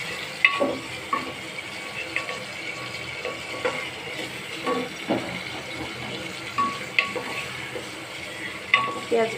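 A wooden spoon stirs mutton with onions in a pressure cooker, making a steady sizzle broken by repeated scraping and knocking strokes against the metal, fairly close and with no talking.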